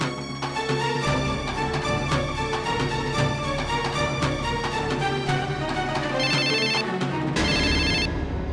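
A telephone ringtone plays loud and steady for about eight seconds during an indoor Hindi TV drama scene, a bright melodic tune repeating without pause and with no talking over it.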